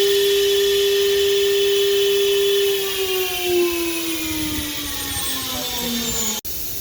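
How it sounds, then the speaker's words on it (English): Spindle of an oscillating knife cutting machine with a CCD camera runs with a steady, loud motor whine whose pitch slowly falls, then cuts off abruptly near the end. "I press it. You will see the spindle is running."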